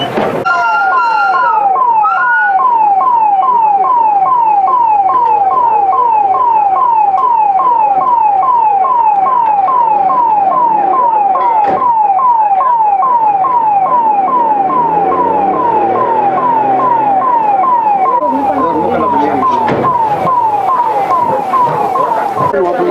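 A school bus emergency siren is tested during a bus inspection camp in Hosur, wailing loudly and close in a fast, repeating up-and-down yelp that shifts pattern near the end.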